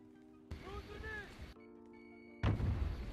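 A grenade goes off in the video game Warzone. After a stretch of tonal game sound, the explosion bursts in suddenly and loudly, then rolls on as a broad roar to the end.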